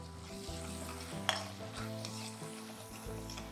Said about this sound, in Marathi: आता हे सर्व मिक्स करून घ्या